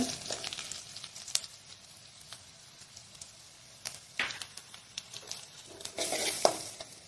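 Green chillies and chili powder frying in oil in a pan for mango pickle, a soft crackling sizzle with scraping stir strokes and a louder burst of spitting near the end, no voices.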